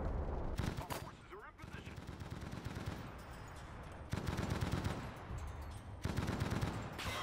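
A Bren light machine gun fires in Enlisted during a Commonwealth battle in the Pacific, with loud, close bursts of rapid shots starting and stopping over a constant rumble of battlefield noise.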